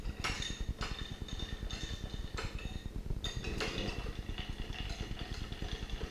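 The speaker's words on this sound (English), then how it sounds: "Now we're going to stir this a little bit." A spoon rhythmically clinks against a glass while stirring a caipirinha cocktail made with rum, repeated quick taps over a low, steady rumble nearby.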